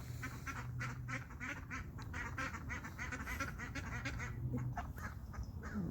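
Ducks quack repeatedly in a quiet, distant chorus, a steady run of overlapping calls with faint background noise and no voices.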